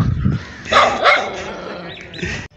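A dog gives a few sharp, close barks and yelps in quick succession, standing out over a busy outdoor background.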